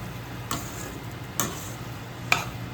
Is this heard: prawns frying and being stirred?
yes